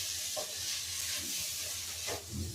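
Moringa leaves fry in an open, uncovered pan, giving a soft continuous hiss and sizzle up close, with a few gentle stirring rustles and no talking.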